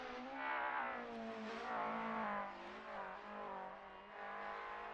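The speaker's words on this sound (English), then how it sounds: "chugging along in that BMW, very battered BMW, as he comes across the line for 14th" A battered BMW race car in a racing video game crosses the finish line with a sustained, rough engine drone whose pitch rises and falls in several swells. Faint and fairly distant, with no talk.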